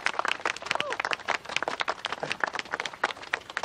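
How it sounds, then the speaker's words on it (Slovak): An audience applauds at a ceremony, dense continuous clapping throughout, with a few voices mixed in. "Veľký potlesk, veľký potlesk."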